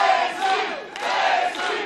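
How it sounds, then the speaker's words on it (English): Wrestling crowd at a Tessa Blanchard vs. Lacey Ryan match cheering and rallying loudly, a dense, sustained roar of many voices with a brief dip before surging again. "This crowd rallying behind her."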